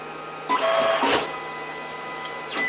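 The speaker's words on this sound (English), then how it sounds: "the printer is printing it out. All right, it's making a bunch of noise." Photo printer producing a 4x6 print, heard up close as mechanical whirring and clunking feed motions, a busy grinding pass in the first second and another starting near the end, with no talk.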